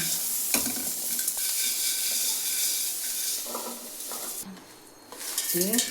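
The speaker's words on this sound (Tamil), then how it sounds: "வெங்காயத்தை போட்டு வதக்கணும்" Onions sizzle and hiss in a hot pan, stirred with clinks of a utensil against metal, close by with no talking.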